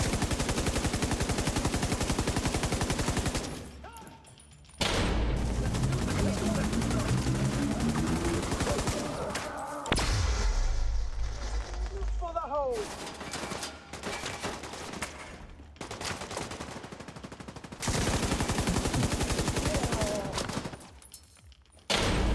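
Sustained light machine gun bursts in a wave-based shooter, long loud continuous fire broken by short pauses, with other gunfire and battle noise in between.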